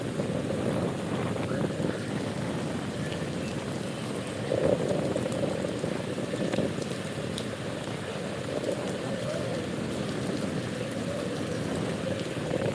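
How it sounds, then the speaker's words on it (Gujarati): Steady, dense rain falling without pause at the Botad marketing yard, a continuous broadband hiss and patter that stays even throughout, with no voices. "વરસાદ છે પડ્યો રહ્યો છે"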